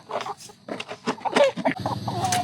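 Roosters on a farm being lifted into a basin for weighing, giving bursts of clucking and squawks among handling noise and shuffling, close by.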